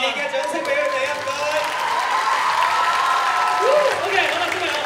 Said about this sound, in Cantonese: 熱烈嘅掌聲俾佢哋啊